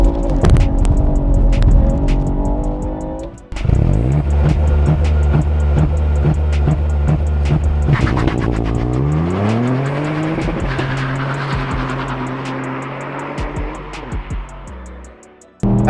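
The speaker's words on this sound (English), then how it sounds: "And when you do launch it, it sounds like you're gonna break a drive shaft." A 2023 Mk8.5 Ford Fiesta ST holds its engine on the launch-control limiter, then drops the clutch. It pulls hard through rising gear changes, loud and close, with no talking.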